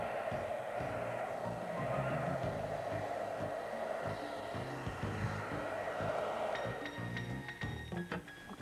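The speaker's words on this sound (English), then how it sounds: "take a blow dryer, and we're going to simply blow the hair in the direction we want" A hair dryer blows in a steady, close whoosh that runs continuously, its airflow shifting slightly as it moves, with a few faint clicks near the end.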